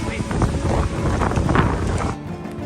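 Gusty wind buffets the microphone outdoors under a blue sky, a loud, rough rushing roar that swells and dips for a couple of seconds before easing off.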